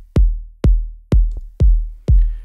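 Electronic dub techno kick drum shaped with mixing EQ, five deep booming hits at an even, spaced pulse, each with a short click and a decaying low tail, loud and alone.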